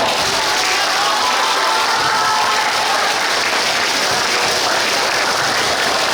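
School students in an audience cheer and applaud at a class STEAM quiz competition, a dense, continuous wall of clapping and crowd noise, loud and sustained throughout.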